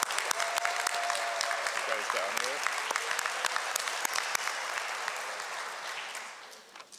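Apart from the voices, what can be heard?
graduation crowd applauding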